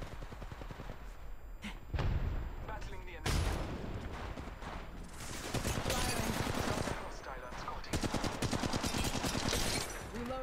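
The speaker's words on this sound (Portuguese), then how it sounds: "Tiro bem perto da gente aqui." Bursts of nearby Apex Legends Mobile gunfire, rapid automatic volleys and single shots, loud and close, with voices talking over the shooting.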